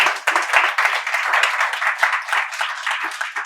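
An audience claps at a Tamil speaking event, steady dense applause at moderate loudness with no voices over it.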